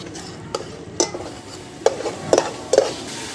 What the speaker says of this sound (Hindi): अभी इसको भून लेंगे अच्छे तरीके से।